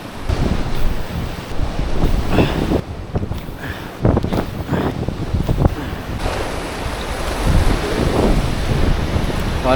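Strong ocean current and waves surging back toward shore, a loud continuous wash of surf with heavy wind buffeting the microphone throughout, broken by brief louder gusts and splashes.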